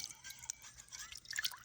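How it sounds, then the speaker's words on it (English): Water, with salt and honey dissolved in it, is poured in for mixing sourdough, a quiet close trickle with small irregular splashes and drips over a short moment. "add in the water"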